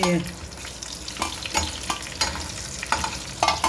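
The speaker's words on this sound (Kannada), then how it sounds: "ಹಸಿ ಮೆಣಸಿನ್ಕಾಯಿ ಒಂದು ಸ್ವಲ್ಪ ಫ್ರೈ" Green chillies fry in hot oil for tomato bath, a steady close sizzle broken by repeated scraping stirs of a spoon against the pan.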